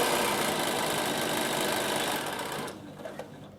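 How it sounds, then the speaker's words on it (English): Sewing machine running steadily as it stitches across the bottom of a fabric produce bag, a continuous close mechanical whir that stops near the end, leaving a few faint clicks. "Sew across the bottom of your bag"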